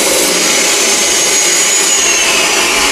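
Power tool cutting firewood logs roars loud and steady at close range, a continuous high whine with no pauses and no talk.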